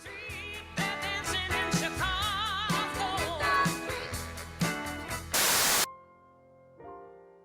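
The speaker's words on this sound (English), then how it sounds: "a little blast of white noise" A short, loud blast of white noise bursts in between two pieces of music, cutting off the first song; a quieter second song begins after a brief pause.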